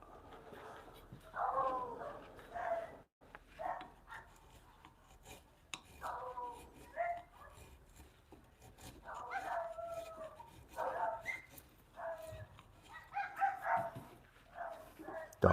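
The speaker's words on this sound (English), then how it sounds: "Dogs barking at the garbage truck." Several dogs bark at a garbage truck in repeated short bursts, close and fairly loud, with scraping wood-carving sounds and a quiet rumble underneath.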